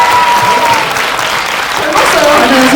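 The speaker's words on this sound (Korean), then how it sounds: "여기서 박수를 드려야 될 것 같아요" Audience applause at a film screening Q&A with cast members, a broad wash of clapping blended with talking voices, fairly loud and steady.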